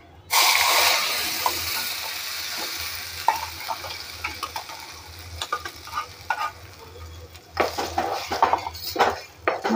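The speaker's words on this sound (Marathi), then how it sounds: "आता ही चटणी आपल्याला ह्याच्यामध्ये टाकून घ्यायची फोडणीमध्ये" Chutney hits a hot tempering of mustard seeds, curry leaves and asafoetida with a sudden loud sizzle, which fades into bubbling while a spoon stirs and scrapes the pan in uneven clinks, close by.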